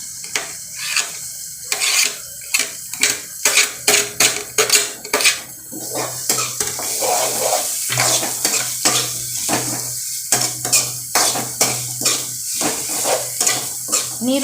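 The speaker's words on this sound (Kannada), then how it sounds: "ನೀರುಳ್ಳಂತೆ ಸರಿ ಫ್ರೈ ಆವಡ ಒಂಥರ ಬ್ರೌನ್ ಕಲರ್ ಬರೋಡು" Onions frying in a pan for chicken sukka, stirred with a utensil: a steady sizzle runs throughout under repeated sharp scraping and clinking strokes of the spoon against the pan, close and fairly loud, with no talking.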